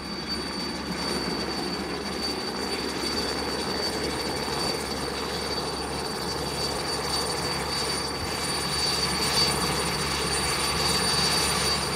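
A steady, droning helicopter rumble with a whirring engine tone continues throughout, moderately loud and unchanging, with no voices.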